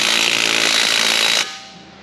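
A ratchet fitted with a driveline wobble socket spins a bolt under a Chevy Malibu. It gives a loud, harsh whirring burst for about a second and a half, then cuts off.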